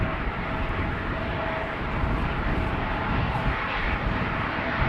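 A CRJ jet at Schiphol Airport gives a steady, broad engine roar with a faint whine, constant and fairly close throughout.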